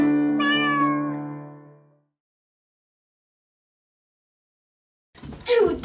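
A single cat gives a clear, drawn-out meow close by. Silence follows, then a short burst of rustling noise.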